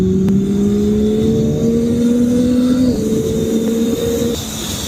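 Yamaha R9 motorcycle engine at full throttle, with a loud, close, rising drone that climbs steadily through the gears with brief shift breaks before easing off at the end.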